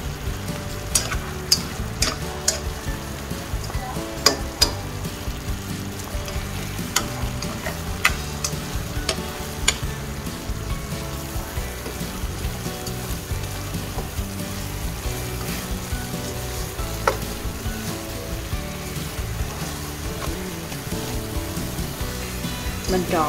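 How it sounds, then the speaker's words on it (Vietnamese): Vietnamese sesame balls stirred in a pan of caramelized sugar, a steady scraping and gentle sizzling texture with frequent light clicks of the balls and utensil, continuous and close, no talking. "Mình trộn đến khi nào cho đường nó trắng lên, khô lại và bám vào cái bánh cam nha."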